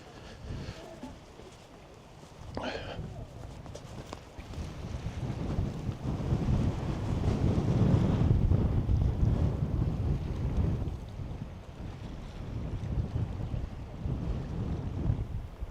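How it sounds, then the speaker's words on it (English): Strong wind at the coast in Scotland buffets the microphone in heavy gusts, rising and falling with a roaring, rumbling sound throughout. "It's very, very windy."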